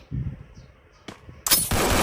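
A sharp grenade blast rips through a game soundscape, loud and crackling, after scattered muffled shots and brief rumbling.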